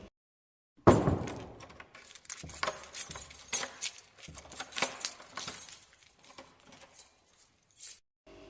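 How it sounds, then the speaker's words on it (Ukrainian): Keys jangle and scrape in a door lock, with several metallic clicks and rattles in a quiet room. "ключі в дверях"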